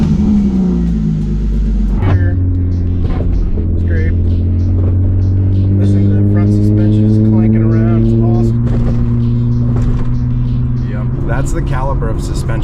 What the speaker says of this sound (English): Yeah, hear that? Rubbing.